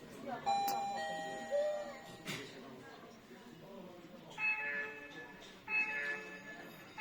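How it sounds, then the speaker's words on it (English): Doorbell chime from a Tuya face ID smart lock, a melodic electronic ding-dong phrase followed by repeating ringing tones, clear and close, while a person speaks over it. "Now press the bell."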